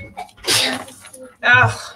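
A single quick sneeze from a person indoors, sharp and close, followed by a short voice sound just after.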